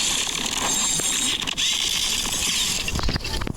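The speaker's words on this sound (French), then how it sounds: "J'ai l'impression qu'à la fin, ça fait un bruit de tournevis" Yeti fruit move in the Blox Fruits video game, giving a dense whirring, ratcheting mechanical sound like a screwdriver, with sharp clicks and a rising whine near the end.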